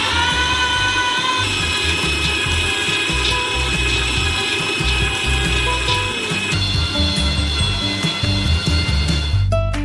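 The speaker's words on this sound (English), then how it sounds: "We transfer them into a meat grinder. And grind them through a small nozzle." Meat grinder grinding 20 kilograms of nuts for a giant Kinder Bueno through a small nozzle, a steady loud mechanical churning and rattling that runs continuously, close up.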